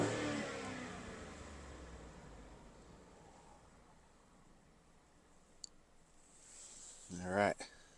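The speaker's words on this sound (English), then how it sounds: "It's got a shaky idle now too, probably because the intake's off." A Ford F-150 engine with its intake removed runs at a rough, uneven idle, a low steady rumble through most of the clip with a louder rev swelling near the end.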